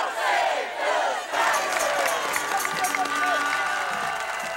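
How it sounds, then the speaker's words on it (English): A crowd at a Renaissance fair event shouts a loud unified cheer together, with a burst of voices and whoops fading into a sustained murmuring crowd. "join our voices in a single cheer"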